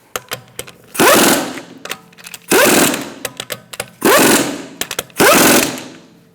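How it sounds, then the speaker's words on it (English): Impact wrench on a Buick Encore tightening the wheel lug nuts in a star pattern, giving four loud sustained rattling bursts separated by shorter clicks and brief taps, close and alone. "I'm going to walk the wheel up and then tighten in a star-like pattern."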